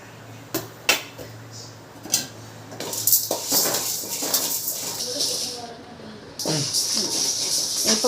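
Toor dal, chana dal and turmeric are dry roasted in a pan, scattered clinks and scrapes of a ladle against metal followed by a sustained hissing rustle of lentils being stirred, close, with a person talking between.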